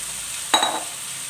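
Okra drops into a pan of frying masala with one sudden burst of sizzle that fades out within a fraction of a second. Quiet background hiss comes before and after it.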